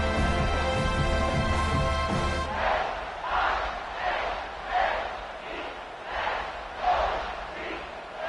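A home stadium crowd at a football game cheers in rolling, swelling waves, loud and continuous, after a steady tonal hum fades out in the opening seconds.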